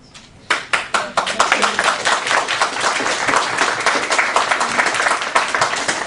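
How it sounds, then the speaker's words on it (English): Applause from a speaker and audience at a psychology talk on love and kindness: dense, loud clapping bursts in abruptly after half a second and continues steadily to the end. "I'm clapping for myself, and I'm clapping for you because you are an awesome crowd."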